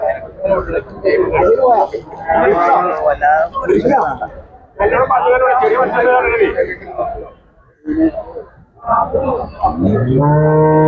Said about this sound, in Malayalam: ഇതൊക്കെ പാൽ പശുക്കളെ ഏരിയയാണ് ആണ് നല്ല നല്ല പാൽ പശുക്കളുണ്ട്